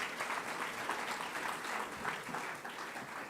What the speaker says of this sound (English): So give the man another round of applause.